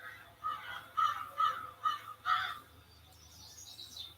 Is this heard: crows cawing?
yes